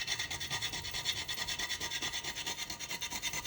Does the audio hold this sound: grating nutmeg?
yes